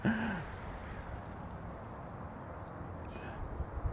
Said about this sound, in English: The birds are noisy.